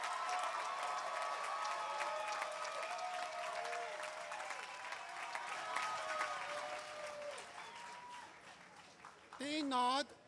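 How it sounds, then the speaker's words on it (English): An audience at a 2009 USC graduate commencement ceremony applauds the graduates with sustained clapping that is steady and fairly distant, and a brief louder burst of sound comes near the end. "Let's have a huge round of applause for all the MPP graduates."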